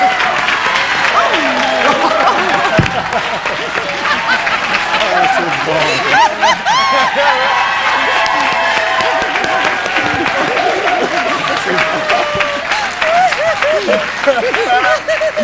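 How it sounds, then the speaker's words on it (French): Loud, sustained applause from a studio audience at a televised comedy show celebrating a man's birthday, continuous clapping with scattered cheers and laughter and voices talking over it. "On va l'applaudir."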